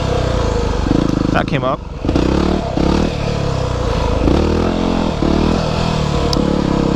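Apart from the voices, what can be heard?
Yamaha WR250R motorcycle revving during wheelie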